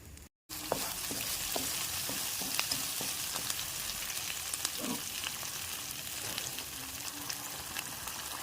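Ground tomato chutney paste fries in a pan of coconut oil, mustard seeds and curry leaves, giving a continuous close sizzle with occasional stirring clicks and no voices.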